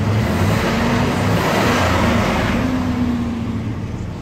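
A Chevy 2500HD pickup work truck engine drones steadily at close range with broad road rumble, its low tone holding even before fading slightly toward the end.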